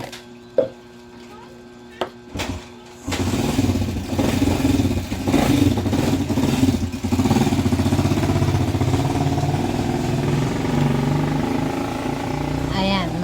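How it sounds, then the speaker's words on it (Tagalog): A small motor engine of a tricycle idles loudly and continuously close by, a rough rattling drone, after a few sharp knocks and clatters at the start. "maingay ang tricycle"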